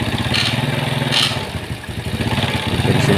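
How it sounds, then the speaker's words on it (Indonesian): Yamaha Mio motor scooter engine running just after a kick start with an exhaust fitted, a steady close idle with a rapid mechanical clatter and slight rises in revs throughout. "motor sekali engkol udah langsung bisa hidup ya sobat mekanik ya"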